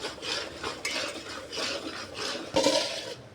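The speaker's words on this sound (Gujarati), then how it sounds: "હવે આપણે દૂધમાં ફૂડ કલર મિક્સ કરી દીધો." Spoon stirring food colouring into milk in a metal pan, a few quick scraping swirls in a soft uneven rhythm, close and fairly quiet, with no talking.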